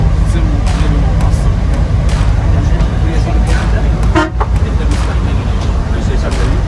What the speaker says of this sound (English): I'm gonna film some of the driving in Cairo because it's awesome.